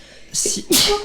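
A single person sneezes twice in quick succession indoors, a short sharp breathy burst followed by a louder second one, close and loud.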